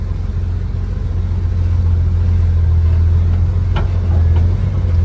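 A vintage M37 wrecker truck crawls slowly along an off-road trail in second gear, its engine a loud, steady low drone throughout with little variation and no talking.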